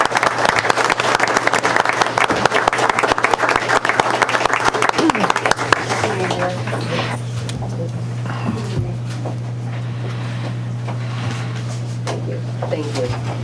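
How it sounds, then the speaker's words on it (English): A crowd applauding newly sworn-in members at a borough council reorganization meeting on New Year's Day: loud, dense clapping for about six seconds, then thinning out and fading to a quiet room. "Please give them a nice round of applause."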